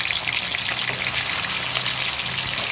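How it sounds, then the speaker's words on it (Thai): Shrimp fry with garlic in hot oil, a loud, steady, dense sizzle with bubbling crackle that holds evenly throughout. "ทำการทอดกุ้ง"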